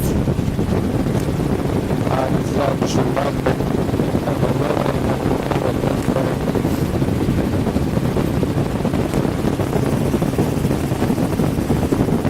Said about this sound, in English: Getting a little bit of wind coming around there.